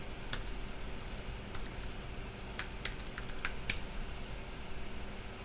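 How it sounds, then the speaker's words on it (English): Someone types a password on a computer keyboard, producing quick, irregular clusters of light key clicks at close range over a quiet background hum, with no talking. "I think I just typed my password wrong."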